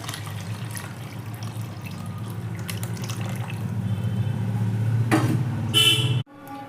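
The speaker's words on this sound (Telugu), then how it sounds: "ముందుగా తయారు చేసి పెట్టుకున్న చింతపండు గుజ్జు వేసుకోవాలి" Tamarind pulp goes into a pan of fish curry already frying with tomato, onion and curry leaves, giving a steady, fairly loud sizzle that builds slightly before cutting off abruptly near the end.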